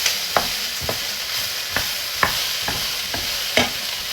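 Pork stir fry sizzling loudly in an oiled pan, a constant bright hiss broken by sharp spatula scrapes and knocks every half second or so as it is stirred, close up with no talking.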